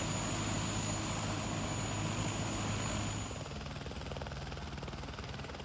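A helicopter carrying tourists over the Fox and Franz Josef glaciers on New Zealand's west coast gives a steady, moderate rotor and engine drone throughout, easing slightly partway, with no voices heard.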